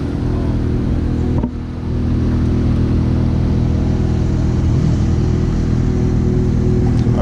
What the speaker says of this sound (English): got a 570S rolling in